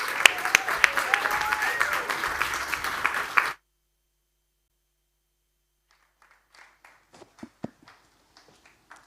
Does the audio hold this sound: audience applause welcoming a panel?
yes